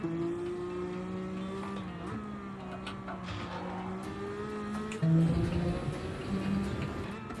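A BMW Z4 sports car engine roars steadily in Gran Turismo 7, droning at high revs with pitch shifts as it accelerates and shifts gears.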